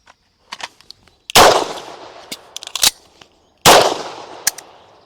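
Two loud, sharp pistol shots from a Beretta M9A4 drawn from an outside-the-waistband holster, spaced about two seconds apart, each followed by a short ringing decay, with faint clicks and handling noise between them and no talking.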